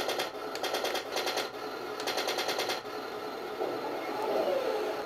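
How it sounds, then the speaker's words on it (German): Heng Long Tiger 1 RC tank, 1:16 scale, firing its electronic machine gun sound effect: two loud bursts of rapid, evenly spaced rattling shots, followed by a steady mechanical whir. "Hier oben haben wir die Möglichkeit, unser Maschinengewehr zu starten."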